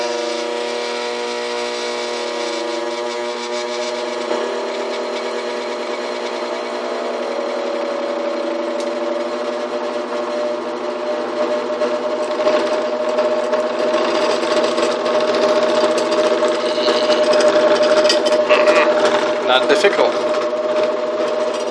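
A small electric motor spins a metal part for an eddy current heating demonstration, a steady mid-pitched whirring hum that rises slightly in speed and intensity over time, with a brief spoken word over it.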